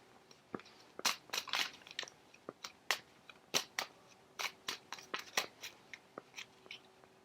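A tarot deck shuffled by hand in a quiet room, giving a string of sharp, crisp card riffles and slaps in an uneven rhythm, close and fairly loud, with no talking.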